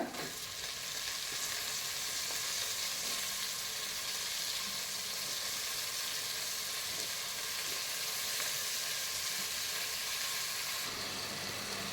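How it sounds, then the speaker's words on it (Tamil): Tomatoes sautéing with onions in a pan for Dindigul seeraga samba biryani, a continuous dense sizzle with faint stirring scrapes, steady and close, changing slightly near the end. "தக்காளி நல்லா வதங்கிடுச்சு"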